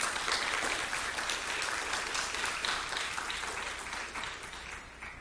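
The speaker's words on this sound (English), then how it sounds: "Please give him a round of applause for that." A city audience at a State of the City address gives a round of applause, a thick, steady wash of many hands clapping that gradually thins and quiets toward the end.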